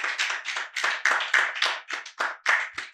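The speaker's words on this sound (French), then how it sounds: "Put those hands together for the Lord" A congregation at a church service claps their hands together in a quick, steady rhythm, loud and close. Dense overlapping claps sound continuously, with no speech over them.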